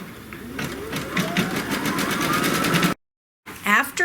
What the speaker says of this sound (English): it's going to stitch the little openings or the little buttonholes